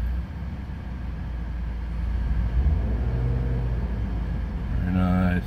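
A 2019 Audi A3 2.0T Premium Plus engine idles steadily with a low, even hum, with a voice speaking over it near the end.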